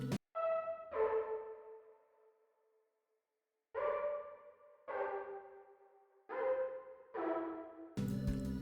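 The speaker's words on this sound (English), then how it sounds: "Next thing is another synth sound that I used June 6V for." June 6V synth plugin playing a sequence of plucky, decaying chords, each struck clearly and fading out with gaps between, a long silent pause in the middle, and a burst of noise at the end.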